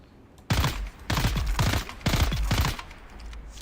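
Gunfire in the Dune: Awakening video game: three loud, close bursts of rapid automatic shots follow one another in quick succession, with no talking.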